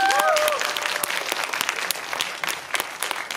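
Dense, steady applause from a cinema audience at a film stage greeting in Megabox COEX, Seoul, filling the room evenly with a brief high whistle at the start, then thinning slightly toward the end.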